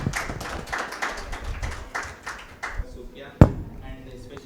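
Audience clapping at a felicitation ceremony during a Unani Hijama cupping therapy workshop at a wellness expo: a spread of hand claps for about three seconds that thins out, then one sharp loud thump near the end.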